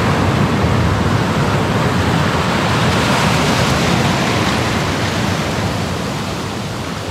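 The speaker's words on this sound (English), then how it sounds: "Pretty strong waves as well today." Strong waves break on an Algarve beach below orange cliffs, a loud, continuous roar of surf close by that eases slightly toward the end, with wind and no voices.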